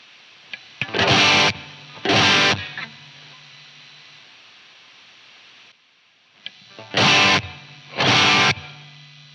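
Electric guitar played through an amp plugin, two short distorted chord bursts, a pause with a faint hiss of noise floor, then two more matching bursts, loud and alone with no talking.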